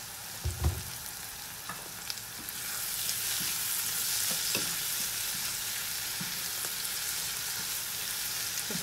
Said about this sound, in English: I will add a little bit of sugar just to caramelize the onion and then the mushrooms